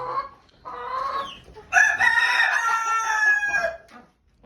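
Chickens cluck and squawk close by in a coop, a busy overlapping chorus of calls that swells, holds, then fades to quiet.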